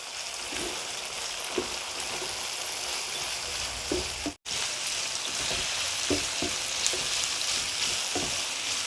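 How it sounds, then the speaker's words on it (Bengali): Pepper chicken, mixed with garlic powder and vinegar, fries in a pan with a continuous close sizzle and occasional stirring clicks and scrapes. "সব কিছু মিশিয়ে আবারও ভেজে নেব"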